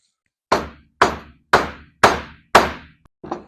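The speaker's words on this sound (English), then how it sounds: "Hammer." Six sharp hammer blows land in an even rhythm about half a second apart, loud and close, each ringing briefly, while fitting Watts link and four-link suspension parts on a 1981 Mazda RX7.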